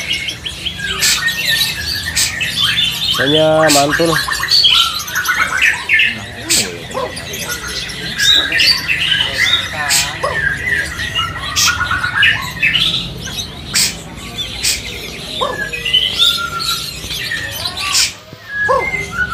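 Busy calls and squawks from caged songbirds at a bird shop mix with short chirps and whistles, fairly close and loud, while a person speaks briefly over the birds.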